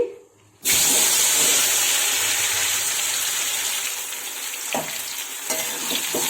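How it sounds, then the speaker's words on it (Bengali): Mango pieces with panch phoron and dried red chillies frying in hot oil for Bengali mango pickle, a loud steady sizzle starting abruptly after a brief quiet moment, with a few stirring scrapes. "আমগুলো দিয়ে দিলাম এটা ভালো করে কষিয়ে নিতে হবে"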